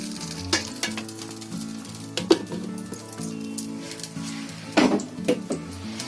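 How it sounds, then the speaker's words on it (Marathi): Ghee heats and sizzles in a kadhai as the first step of a coconut filling, with a steady crackle broken by a few sharp metallic clinks and scrapes from a utensil. "थोडा बघा मी घी टाकते कढईमध्ये"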